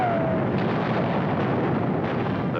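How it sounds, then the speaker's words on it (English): Russian artillery pounding Berlin in an archival wartime newsreel, heard as a continuous dense rumble of distant shelling and explosions with no clear separate blasts, steady and fairly loud throughout. "Berlin, once mighty metropolis of a proud nation, now crumbles under the merciless pounding of Russian artillery."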